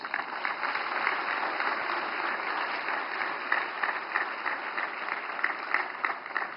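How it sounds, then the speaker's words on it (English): Audience applause welcoming the President of India at a Human Rights Day celebration: a dense, sustained burst of many hands clapping that holds steady and fairly loud throughout. "May I request all of you to welcome the Honorable President of India with a huge round of applause"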